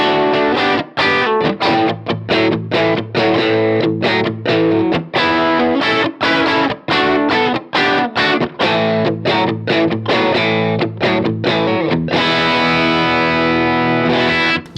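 Distorted electric guitar played through a Strymon Iridium amp and cab simulator, with the treble turned well up for a bright tone. Loud, choppy rhythmic chords are strummed steadily, each one cut short by brief gaps, and no one speaks.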